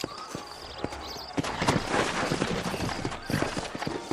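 Horse hooves clip-clop in Red Dead Redemption, an in-game ride through New Orleans, with steady close hoofbeats over a busy street-like ambience and a brief whinny.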